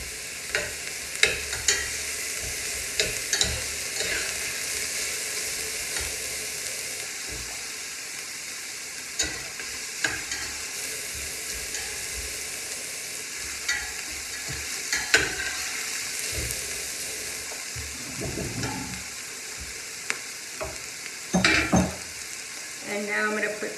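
Turkey meat stirred in olive oil in a pan gives a steady moderate sizzle, broken by repeated scraping and clattering strokes of a utensil against the pan.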